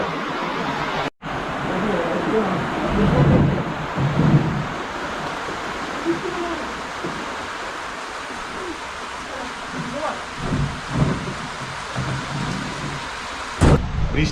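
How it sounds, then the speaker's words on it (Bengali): Rain falls steadily on an open container restaurant in Gadiadara, a broad even patter and hiss under faint, intermittent voices, with a few sharp knocks close by. "বৃষ্টি এসে গেছে, যেখানটা বসেছিলাম ওখানটা প্রায় ভিজে গেছে।"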